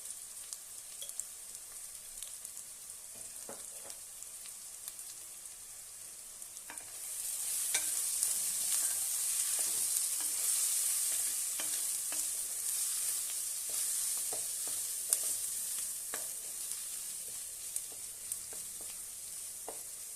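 Country chicken cooks in oil with turmeric and chili powder, a soft sizzle that swells after a few seconds into a brighter, steadier frying hiss, punctuated by light stirring clicks.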